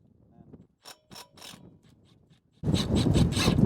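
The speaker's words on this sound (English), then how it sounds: "So I've got my T30 and I've got my impact." An impact driver with a T30 bit spins out a front caliper assembly screw on a 2015-2019 GMC/Chevy 2500 truck, a loud sustained burst of rattling hammering that follows a few quieter clicks and handling noises.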